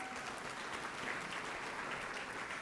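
Applause from the audience at a town's State of the Town address, a steady dense wash of clapping filling the room at even loudness throughout.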